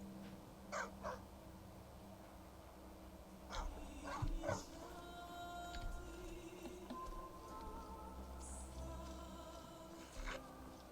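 A dog in the video game Skyrim barks a few times, with short barks near the start, a cluster in the middle and one near the end, heard over steady outdoor game ambience with no talking.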